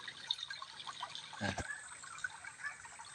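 Cold water from a small stream runs and trickles faintly at an outdoor washing spot, with a brief splash midway, as hands are washed.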